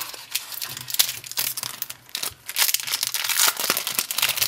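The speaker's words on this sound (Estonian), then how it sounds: "avame esimese paki kohe" A foil football trading card pack being torn open by hand, close and continuous, with bursts of crinkling and ripping wrapper noise throughout.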